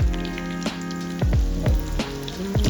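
Aagri chicken frying in a pan over medium flame, a steady close sizzle broken by several soft thumps and crackles as the pieces shift, with no talking.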